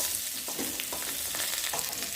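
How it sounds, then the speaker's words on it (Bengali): Pieces of young jackfruit fry in hot oil in a pan, a steady close sizzle with crackling pops and occasional stirring scrapes, no voices. "তো দেখো আমার এঁচোড়টা ভাজা হয়ে গেছে বুঝতে পারছো।"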